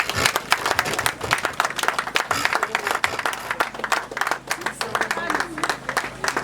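A congregation claps for a baby at a baptism, with a lively, uneven patter of many hands throughout, mixed with voices talking over it.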